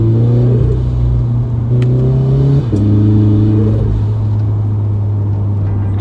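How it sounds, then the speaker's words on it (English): Turbocharged Scion FR-S fitted with a Speed by Design 500X kit and GTX3076R turbo, engine droning loud and close with rising revs and a brief dip, the turbo's flutter chattering over the steady exhaust note. "Dude, that flutter is crazy."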